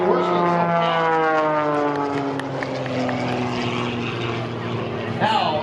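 MX2 aerobatic airplane's propeller engine at an airshow, a loud sustained drone with slowly sliding pitch as the plane maneuvers overhead and its engine note rises and falls.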